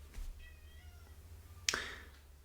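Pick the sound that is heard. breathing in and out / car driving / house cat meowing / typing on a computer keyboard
house cat meowing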